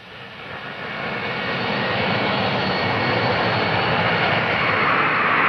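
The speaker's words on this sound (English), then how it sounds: "the plane bringing the first cruise missiles to Britain came into land at the end of its overnight flight across the Atlantic" A large aircraft carrying cruise missiles comes in to land after an overnight transatlantic flight to Britain, its engines a loud, broad roar that swells steadily and holds close throughout.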